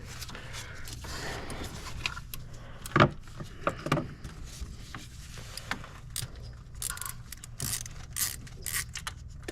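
A socket wrench loosens the thermostat bolts on a Kia Soul or Forte engine. Faint metallic clicks and ratcheting clinks come in scattered bursts, with a sharper clank near the three-second mark.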